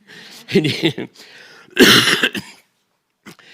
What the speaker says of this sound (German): Ich war ein paar Tage krank, wenn ich da mal huste.